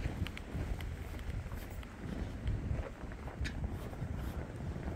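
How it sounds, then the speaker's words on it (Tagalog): Steady winter wind in Minnesota buffeting the microphone, a constant low rumble with gusty swells throughout, no voices. "nakikita nyo ba na may hangin?"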